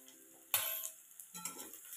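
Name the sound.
onion frying in oil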